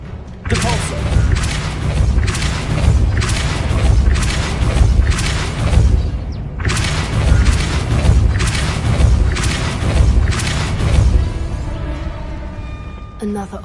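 Hogwarts Legacy Depulso spell effects on PS5: a dense series of heavy magical booms and thuds pulsing in rapid bursts, loud and close, repeating in two long volleys with a brief gap between them.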